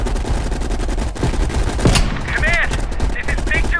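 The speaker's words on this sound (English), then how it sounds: "You readied your sniper rifle to assist." Sniper rifle gunfire from the Call of Duty Black Ops Cold War campaign, one sharp shot cracking through a dense, steady battle din, followed by warbling radio-like tones.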